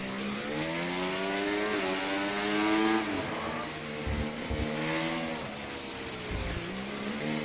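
A race car in a racing video game on the Azerbaijan circuit, its engine screaming close and loud with rising and falling revs as it brakes, downshifts and feathers the throttle.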